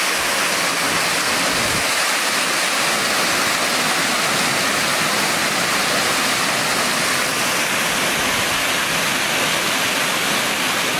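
Loud, steady rushing and splashing of a water feature fountain inside a building in Texas, a dense continuous wash of water noise with no speech.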